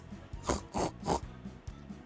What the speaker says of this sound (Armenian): խոզ,